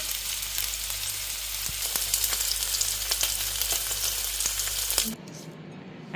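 Steak sizzles and fries steadily in a pan, a dense continuous crackle with small pops, close and fairly loud for about five seconds before cutting to a quieter, muffled background.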